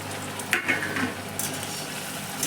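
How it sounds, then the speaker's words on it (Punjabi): Taro (arbi) pieces frying in oil in a pan, a close steady sizzle with a few stirring scrapes and clinks near the start. "ਹੁਣ ਆਪਾਂ ਜਿਹੜੀ ਬਾਕੀ ਦੀਆਂ ਅਰਬੀਆਂ ਨੇ ਉਹ ਵੀ ਪਾ ਕੇ ਫਰਾਈ ਕਰ ਲਵਾਂਗੇ"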